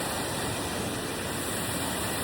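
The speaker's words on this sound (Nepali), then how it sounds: "पानी बगिरहेको छ।" Water rushing steadily down a waterfall stream in Dharan, a dense, even wash of noise that runs unbroken from start to finish at moderate volume.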